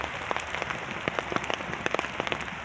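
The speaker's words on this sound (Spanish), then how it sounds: "Está cayendo piedra." Hailstones rattle down in a rose garden in a dense, uneven patter, with distinct sharp taps popping out of the steady hiss.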